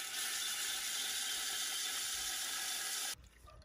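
Water gushes steadily into a newly installed dog drinking fountain once the main street supply valve is opened, a loud, continuous hiss of filling that cuts off abruptly near the end.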